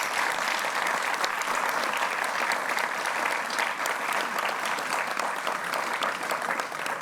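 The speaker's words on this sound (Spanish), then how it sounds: "Yo creo que amerita un aplauso y yo creo que hay que aplaudir estos grandes avances" Sustained applause from a large crowd, steady and dense throughout with no pauses.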